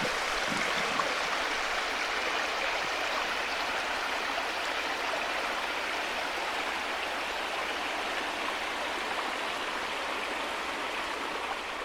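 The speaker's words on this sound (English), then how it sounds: "It's just a little runoff from all the rain" Rain runoff water rushing across a hiking trail near Mina Sauk Falls, Missouri, after days of steady rain, a continuous loud broadband flowing roar close by with no pauses.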